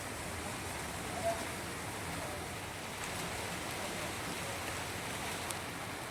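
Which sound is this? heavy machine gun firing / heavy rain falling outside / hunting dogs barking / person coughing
heavy rain falling outside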